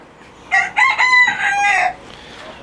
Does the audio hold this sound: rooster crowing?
yes